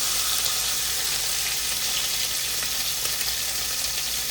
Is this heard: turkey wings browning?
yes